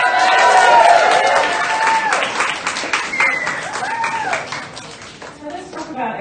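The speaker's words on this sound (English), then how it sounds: "Yeah, everyone give them a cheer." Crowd at a same-sex marriage campaign reflection event cheering and applauding, loud clapping with whoops and shouts that peak early, then gradually thin and fade toward the end.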